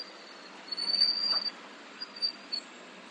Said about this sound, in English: Roosevelt Island tramway.